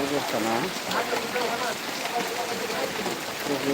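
Heavy rain pours down in a steady, dense hiss with no letup, while voices murmur faintly underneath.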